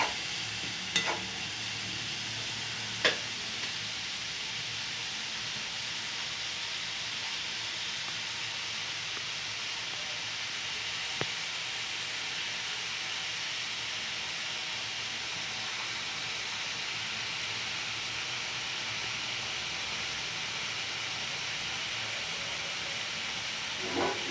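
Onions with green chilli sautéing in a pan for masala chicken fry, a steady soft sizzle and hiss with a few sharp clinks of a spoon against the pan.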